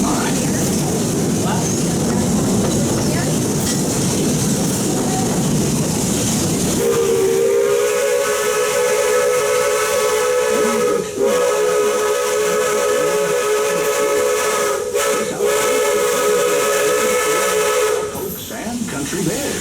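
Walt Disney World Railroad steam train whistle blowing one long, loud, steady note for about ten seconds over constant hissing steam and rumbling train noise, with a short second blast near the end.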